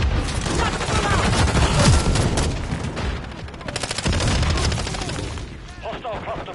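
Sustained automatic gunfire and bursts of shots in Call of Duty Modern Warfare 3, loud and dense with booming impacts, mixed with in-game radio voices talking.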